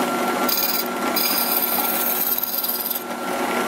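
A lathe skim-cutting an OEM wheel as it is turned into an insert: a continuous high mechanical whine with a tonal ring, broken by brief gaps and shifts as the cutting passes start and stop.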